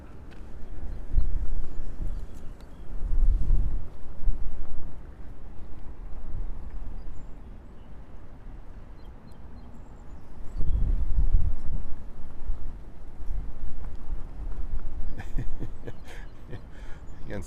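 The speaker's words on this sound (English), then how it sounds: "I'm fighting against the wind here." Wind buffeting a microphone outdoors at an airport, a low rumbling roar that surges in gusts and eases again over several seconds, with scattered faint background sounds.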